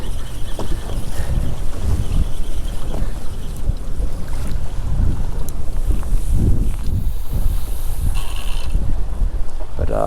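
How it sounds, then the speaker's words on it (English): A fishing boat engine revs hard out at sea, a loud continuous churning roar mixed with wind buffeting the microphone and water noise, with no voices. "just give it some revs on the way back"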